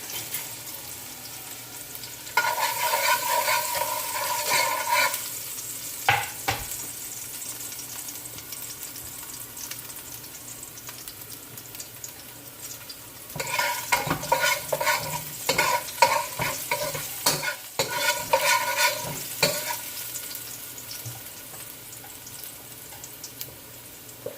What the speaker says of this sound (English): I just put a tablespoon of olive oil. Now I'm gonna add some garlic. Just 4 cloves of garlic.